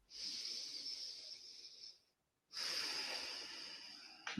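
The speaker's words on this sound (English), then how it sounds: "Take a nice breath." Two slow, deep breaths, a long airy inhale-exhale, a short pause, then another, soft and close with a gentle hiss.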